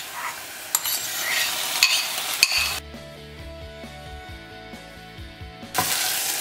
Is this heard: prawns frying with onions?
yes